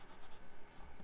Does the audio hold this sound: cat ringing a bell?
no